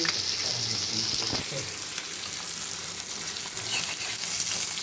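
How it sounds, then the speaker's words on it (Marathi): Fish fries in a pan, a steady bright sizzle that runs continuously with a few clinks and stirring touches, close and fairly loud. "बघा फ्रेंड कसे मासे परताय लागले एकदम छान पैकी"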